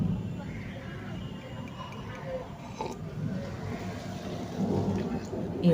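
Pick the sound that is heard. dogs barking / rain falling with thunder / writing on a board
rain falling with thunder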